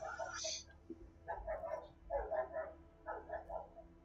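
Neighbours' dogs walking past outside bark and yip in several short, mid-distance bursts spaced through a few seconds, fairly faint against a quiet room.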